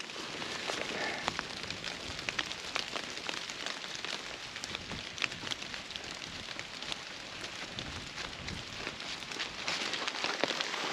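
Steady rain pattering on a cold, wet hiking trail, a constant dense hiss of drops with scattered sharper taps, moderately loud and continuous with no voices.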